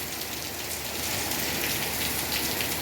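Heavy rain pours steadily onto surfaces, a dense, continuous hiss of drops with no letup, fairly loud and close throughout.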